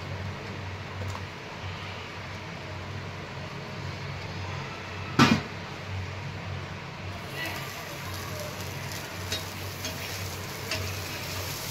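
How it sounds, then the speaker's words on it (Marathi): Butter melts onto a flipped chapati on a hot pan, made from a dough with leftover vegetables, giving a steady soft sizzle with one brief clatter midway and a faint hiss throughout. "आता पलटी करून घेतलेली आहे आणि त्यावर बटर टाकणार आहे."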